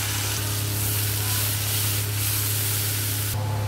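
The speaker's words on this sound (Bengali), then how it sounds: "এবার এর মধ্যে কাঁচা লঙ্কা, টমেটো আর কারি পাতার পেস্টটা ঢেলে দেব। একটু সাবধানে দেবেন, কেন এটা হাতে না হলে ছিটকে পড়বে।" A paste of green chili, tomato and curry leaves sizzles loudly in hot oil, a steady, close crackling hiss that holds throughout before shifting slightly near the end.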